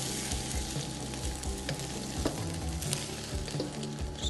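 Egg fried rice frying and being stirred in a pan, with a steady, close sizzle and repeated scraping strokes of the utensil in a rough rhythm throughout, no voices.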